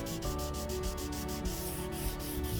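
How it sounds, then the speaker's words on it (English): A rusty No. 7 jointer plane being sanded by hand with 320 or 400 grit wet/dry sandpaper, giving a steady, close abrasive rubbing with a quick repeating back-and-forth stroke rhythm and no talking. "this is 320 or 400 grit wet dry sandpaper"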